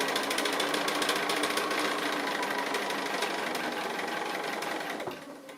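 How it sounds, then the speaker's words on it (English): Sewing machine stitching a small quilt applique block, a fast continuous mechanical whirring and ticking held close and steady for several seconds before stopping abruptly at the end. "So I can just skip onto there and just keep sewing."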